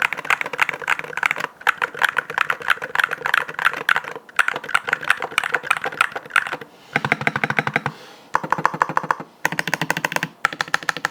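Rapid typing on a magnetic-switch mechanical keyboard with an aluminium case, crisp close clatter in dense bursts separated by short pauses, no voices.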